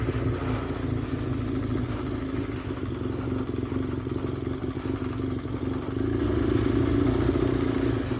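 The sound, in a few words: big bike motorcycle engine running on off-road trail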